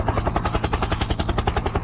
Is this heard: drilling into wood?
no